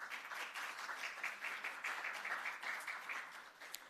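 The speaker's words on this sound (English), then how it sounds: "I think that deserves another round of applause" Attendees at a Jamaican ceremony for an EU grant financing agreement for small businesses give a round of applause, heard as faint, distant crowd clapping sustained evenly for around four seconds.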